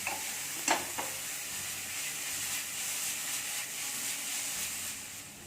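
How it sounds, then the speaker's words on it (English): Chopped onions frying in a pan for Maharashtrian mutton kheema produce a steady close sizzle with a couple of brief spoon clicks near the start, continuous and even throughout. "ये ऑनियंस को हमको अच्छी तरह से भून लेना है, ब्राउनिश कलर आने तक."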